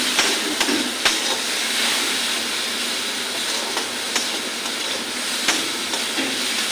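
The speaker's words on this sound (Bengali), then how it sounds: "দেখো কি সুন্দর মশলাটা আমার ভালো করে ভাজা হয়ে গেছে, তেল বেরিয়ে আসছে" Spices with Kashmiri chilli, salt and turmeric frying in oil for a boal fish curry: a steady loud sizzling hiss with occasional pops, no talk.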